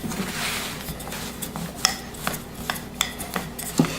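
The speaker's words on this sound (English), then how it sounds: "So we're just going to roll it into a rectangle." A rolling pin works croissant dough into a rectangle on a counter, making soft, steady rubbing and rasping with a few light knocks, quiet and close.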